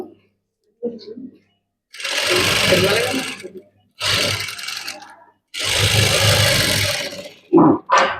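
A sewing machine runs in three bursts of rapid, steady stitching as a blouse lining is sewn for a maggam work blouse, with short pauses between runs and brief sounds at the end.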